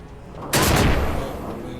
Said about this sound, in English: It's an explosion trap.